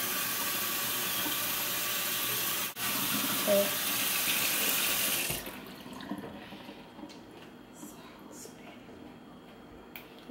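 A tap runs steadily at full flow for hair washing, a loud continuous rush of water that cuts off abruptly about halfway through, leaving quieter room sounds and faint voices afterward.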